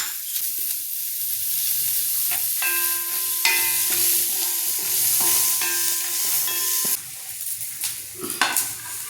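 Ginger, garlic, curry leaves, coconut and cashews sauté and sizzle in a pan while being stirred, giving a steady close frying hiss with brief clinks, and faint tones in the background.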